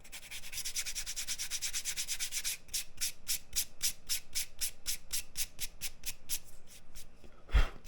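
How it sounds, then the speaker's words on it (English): Sandpaper rubbed back and forth along the uneven edge of a leather piece in a beginner leathercraft project, a steady scratchy rasp turning into a regular series of distinct strokes, close and clear, ending in a small knock. "take your sandpaper and even everything out"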